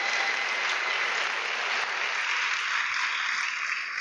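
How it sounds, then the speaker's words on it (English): An audience at a school system's state address claps in sustained applause, a dense, even roar of many hands that fills the room and holds steady throughout. "I think that deserves a round of applause."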